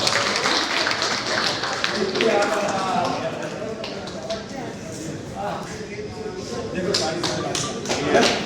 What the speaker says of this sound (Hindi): सभी का जोरदार तालियों के साथ स्वागत करें।